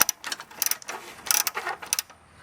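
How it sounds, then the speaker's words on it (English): A ratchet wrench with an 8mm socket loosens heater shield bolts on a Dodge Neon during catalytic converter work, giving several quick close bursts of clicking pawl ratchets. "using the 8mm socket. Start removing the heater cover bolts."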